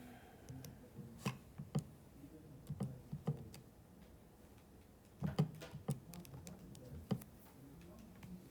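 Computer keyboard typing in a quiet room, irregular bursts of soft clicks and taps with short pauses, fairly close and faint, no talking.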